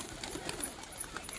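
Pigeons coo softly in low, repeated murmurs, with faint flutters and background hiss, heard up close without any talking.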